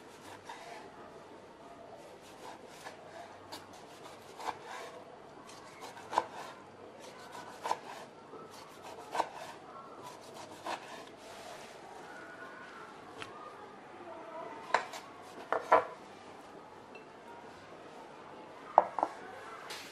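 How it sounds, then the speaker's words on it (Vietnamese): A knife cutting through pork belly on a cutting board for braised pork with soybean paste, giving soft scraping strokes and occasional sharp taps against the board, fairly quiet and spread across the whole stretch. "thì mình sẽ thái cái miếng thịt này ra trước nhé"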